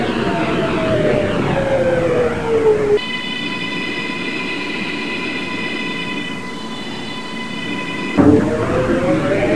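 An R211 M subway train on a Roblox game line runs steadily, its low rumble broken mid-ride by a sustained set of high electric whines, with rising motor whine before and after, close and continuous.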